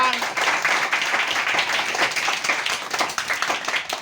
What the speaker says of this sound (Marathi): त्यासाठी जोरदार टाळ्या वाजवा